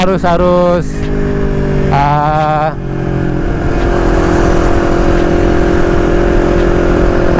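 A motorcycle of over 250cc runs steadily and loudly throughout, with a couple of brief rising revs near the start as it rides along.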